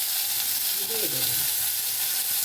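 Potatoes and pumpkin fry in a pan with turmeric, giving a steady, close sizzling hiss while they are stirred, with a few soft scraping stirs near the middle.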